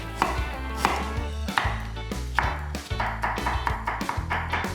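A knife slices ginger thin on a cutting board in a steady, quick rhythm of close, crisp taps, with no voices over it.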